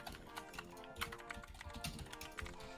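Fingers typing a command on a computer keyboard during a Minecraft game session, soft quick key taps clattering steadily and faintly throughout.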